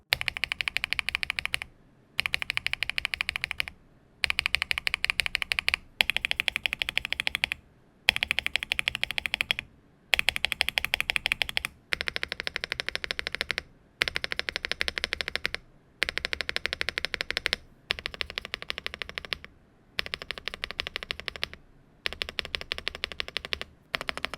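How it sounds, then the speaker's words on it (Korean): Mechanical keyboard spacebar presses on tenkeyless keyboards clack in fast, dense runs, repeated in bursts of a second or two with brief silent gaps between them. "스페이스바 소리도 키보드 취미의 꿀잼 포인트죠"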